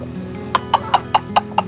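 Peruvidai hens in a farm partition give six short, evenly spaced clucks over a low, steady background hum, fairly close and clear with no talking.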